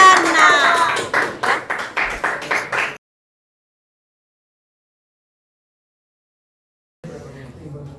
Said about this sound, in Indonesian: Kita berikan aplaus untuk kelompok 5 dan 6.